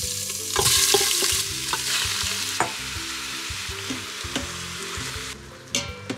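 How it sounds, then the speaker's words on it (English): Venison browning in hot oil in an Instant Pot on saute mode, a steady close sizzle with a few light clinks and stirring scrapes, a brief louder burst near the start. "first we're gonna throw in the venison"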